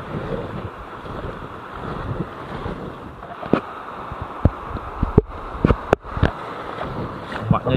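Large ocean waves washing onto a beach under heavy wind buffeting the microphone, with irregular thumps and surges, loud and close.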